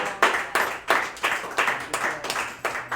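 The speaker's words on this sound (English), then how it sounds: "Give Monty a big round of applause for making this happen for us." Audience at a punk-themed comedy night gives a round of applause, steady, fairly even clapping with a rhythmic pulse, close and moderately loud, with no speech over it.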